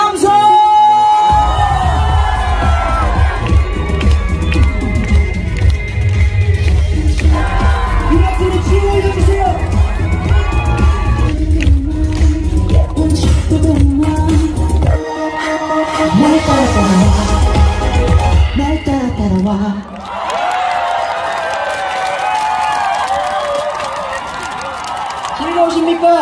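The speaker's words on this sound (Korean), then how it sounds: "함성." A concert crowd at a show cheers, whoops and shouts loudly and continuously for about twenty-five seconds, the roar dipping briefly near the end before surging again.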